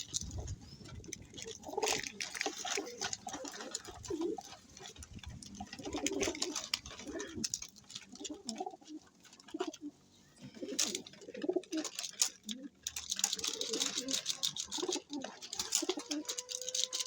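Pet pigeons cooing nearby in soft, repeated low throaty calls, mixed with light pattering and shuffling sounds from the birds.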